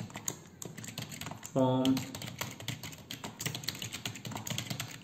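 Quick typing on a computer keyboard while entering a short message for a Python Telegram bot, a dense run of light clicking keystrokes close by, with someone speaking briefly over it.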